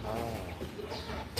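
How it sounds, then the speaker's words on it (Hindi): A Turkish rooster in a home garden clucks softly and steadily, a faint, close, low call running alone for a moment before a brief louder burst at the end. "टर्किश मुर्गा नर"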